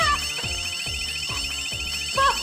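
A building alarm rings, probably a false alarm, in a steady, repeating electronic pattern of five or so pulses, loud and continuous.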